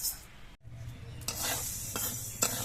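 Mung dal dry-frying in a pan while being stirred constantly, a faint hiss with soft scraping strokes of the spatula, brief and close.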